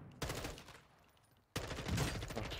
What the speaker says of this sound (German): Bei uns sind Schüsse.